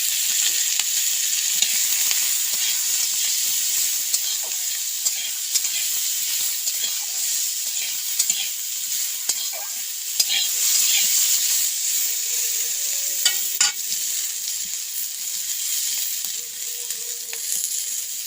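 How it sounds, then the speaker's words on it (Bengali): Potatoes and beans fry in a pan for a spicy dried-fish curry, giving a steady, close sizzling hiss with occasional scraping stirs throughout, without any talking. "প্রথমে আলু বিমগুলো তুলে তুলে ভেজে নেবো।"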